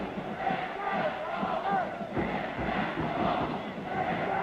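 A capacity crowd of over 6,000 fills St. John's Alumni Gym at a 1968 Ivy League men's basketball championship game, a steady dense murmur of voices with scattered shouts rising and falling throughout.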